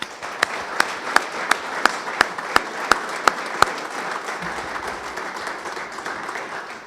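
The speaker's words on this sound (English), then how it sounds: "Let's clap it up here for Coach Garson." Crowd applause honoring a coach at a gathering, a steady wash of many hands clapping with a few sharp, evenly spaced louder claps near the start, fading down toward the end.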